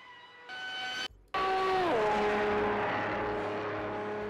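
Race car engine in Project CARS 2 at a Le Mans event, droning loud and somewhat distorted, cutting out briefly, then roaring back and dropping in pitch as the car shifts and settles into a steady, near hum.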